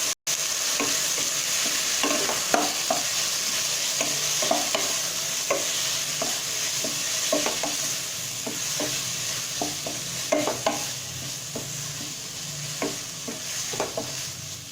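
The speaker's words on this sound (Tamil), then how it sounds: "கறி மசாலா பொடி, தனியாத்தூள், மிளகாத்தூள் இது போட்டு பச்சை வாசனை போக வதக்கணும்" Curry masala, coriander and chili powders sauté in a pan for chicken curry. A constant sizzle runs under repeated scraping strokes from a stirring spoon, close and fairly even throughout.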